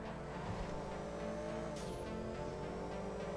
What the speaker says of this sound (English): And when you hear your car go, so when it bogs down